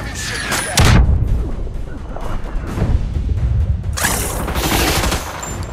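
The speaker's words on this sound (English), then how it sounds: "Gunfire support on its way." Naval gunfire support in the Battleship video game: heavy booming cannon blasts and rolling explosions, a big burst at the start and another near the end, with rumbling impacts between.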